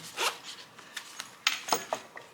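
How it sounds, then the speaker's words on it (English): A YKK zipper on a clamshell-style tool pouch rasps open in several quick, close pulls, with short pauses between the strokes and a few softer rubbing sounds. "Ykk Zipper, clamshell style opening."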